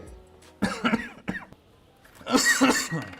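A person coughs in a few harsh bursts, a short cluster followed by a louder, throatier fit a moment later, close and with no talk.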